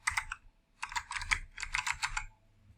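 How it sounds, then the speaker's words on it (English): Close typing on a computer keyboard in three quick bursts of rapid key clicks, separated by short pauses and heard alone. "I'm just going to type it Animation Tech."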